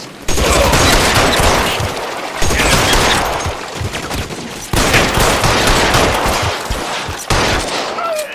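Gunfire in the L.A. Noire video game comes as loud, dense bursts of rapid shots, broken into several sustained volleys separated by brief pauses.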